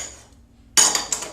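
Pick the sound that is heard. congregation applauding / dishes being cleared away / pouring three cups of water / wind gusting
dishes being cleared away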